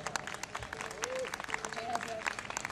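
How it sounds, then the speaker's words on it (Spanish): Live concert audience applause during band introductions, a scattered clatter of clapping under a steady crowd murmur, with a faint sustained musical tone and some voices mixed in. "un aplauso para él."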